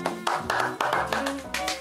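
Hands clap in a quick, uneven rhythm of sharp slaps, heard close and clear over a tonal, musical backing.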